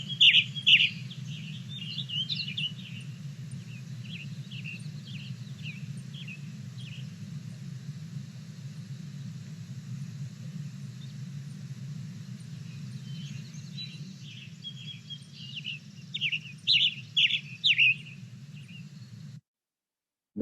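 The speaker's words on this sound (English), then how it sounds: "And then we already heard Western Tanager, but as a reminder," A Western Tanager sings short, hoarse, robin-like phrases in bursts at the start and again near the end, over a steady low hum.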